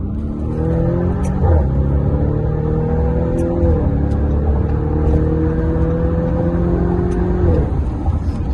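A Lamborghini Urus SUV, a 650-horsepower model with 850 Nm of torque, drops a gear in fifth and pulls hard. Its loud, steady engine roar climbs in pitch through repeated sweeps, close up and filling the whole stretch.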